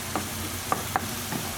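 Browned mince and chorizo seasoned with salt and black pepper are stirred in an oily pan for a spaghetti bolognese, with soft sizzling broken by several sharp spoon scrapes and clacks.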